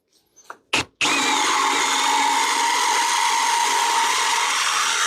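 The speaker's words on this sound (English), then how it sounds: "these are a little harder to remove, but you can do it the same way with the step drill" Step drill spinning up with a few short bursts and then running loud and steady as it bores out a rivet, a close, high-pitched whining grind with no talking.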